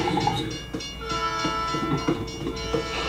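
Train in a virtual reality safety animation, heard as a continuous rumbling, rattling passage with a sustained horn-like tone layered over it, fairly close and without speech.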